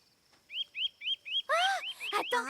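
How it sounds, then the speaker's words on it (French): Cartoon baby bird chirping in a string of short, bright rising peeps, first sparse and evenly spaced, then louder and denser near the end, alone without talk. "Tu veux pas arrêter de piailler, petit monstre?"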